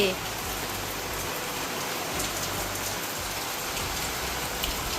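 Heavy rain pours steadily and close by in a dense, even hiss that does not let up, with no voices heard.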